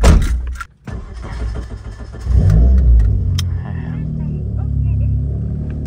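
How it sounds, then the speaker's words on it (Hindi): A Daihatsu Copen in Pakistan, billed as the fastest one there, cranks and fires up, then revs with a loud, close rumble that swells and holds steady. "दरवाज़ा खोलते हैं, इसको स्टार्ट करते हैं और ले चलते हैं।"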